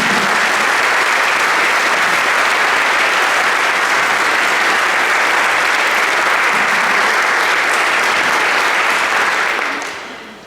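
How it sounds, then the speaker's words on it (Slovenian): Sustained, loud applause from a crowd filling an outdoor square at a Sevnica municipal awards ceremony, steady throughout before tapering off at the end. "Prosim za aplavz"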